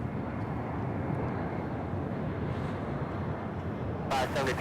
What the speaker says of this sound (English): this is the one from Frankfurt. American Flight 705, arriving here after about 8 hours